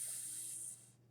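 Steam hissing as molten lava strikes water on a room floor, a steady bright hiss that holds for most of a second and then cuts off, leaving a faint low hum.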